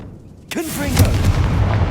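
A sudden blast from a Confringo explosive spell in the Hogwarts Legacy video game on Xbox Series X bursts in halfway through, followed by a sustained rumbling roar, with a voice speaking over the start.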